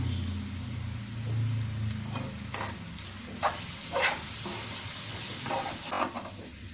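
Spinach and egg thoran sizzles steadily in a pan, with several soft scraping strokes of stirring spread across the quiet, close frying hiss and no talking.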